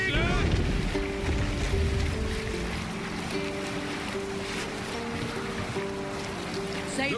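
A sailing ship moving through water in the video game Assassin's Creed Valhalla, with loud steady wind and sea wash, creaking timber, a sustained horn-like tone and a faint shout at the start.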